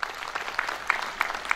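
Brief burst of crowd applause at the opening ceremony of a TÜMKİAD association branch in Edirne, with scattered individual claps standing out from a steady patter.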